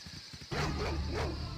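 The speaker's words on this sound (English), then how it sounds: "Ah! Wild dogs!" Wild dogs in a video game let out a sudden loud, harsh burst of barking and snarling that carries on steadily after a quiet start.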